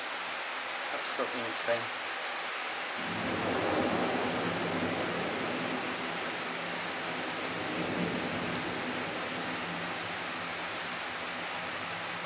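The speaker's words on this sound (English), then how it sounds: "The rain just driving in, look at that lightning there." Dense, steady rain hisses continuously during a late-night lightning storm in Pudu while a low rumble of thunder rolls through; a voice speaks briefly over the downpour.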